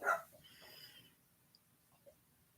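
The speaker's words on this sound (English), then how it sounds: "And sorry for the dog barking." A dog gives one short bark up close indoors, then a few soft whimpering and breathy sounds trail off into near silence, with no talking.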